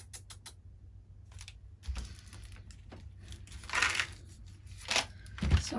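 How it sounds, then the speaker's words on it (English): Wrapping paper being torn and scrunched up while presents are wrapped for Christmas: a quiet run of crinkling, ripping bursts that grow louder and denser toward the end, close by with no talk. "Can you hear it tearing apart the paper?"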